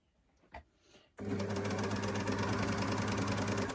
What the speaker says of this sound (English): now I'm going just to stitch this seam